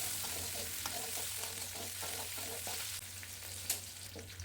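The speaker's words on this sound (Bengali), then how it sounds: "কড়াইতে পরিমাণ মতো ঘি দিয়ে তাতে গোটা পেঁয়াজ, কাঁচামরিচ, রসুনের কোয়া, কাজু বাদাম, কাঠবাদাম, কিশমিশ দিয়ে একটু নেড়ে গোটা শুকনো মরিচ দিয়ে ভালো করে ভেজে নেব" Whole onion, green chillies, garlic cloves, cashews, almonds and raisins fry in ghee in a wok, a steady soft sizzle broken by rhythmic scraping stirs, close and fairly quiet, no voices.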